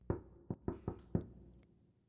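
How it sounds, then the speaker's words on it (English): Knocking on a wooden cabinet door as an audiobook effect: five close, solid knocks in an uneven rhythm, then a quiet fade with no voices. "knocked with a somewhat uncertain hand on the cabinet"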